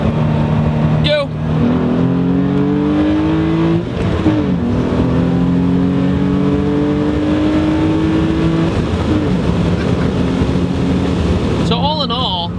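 A Hyundai Genesis Coupe fitted with an AEM cold air intake, a performance tune and an aftermarket exhaust accelerates hard, its engine note climbing through several gear pulls with brief dips at the shifts, loud and close with wind noise.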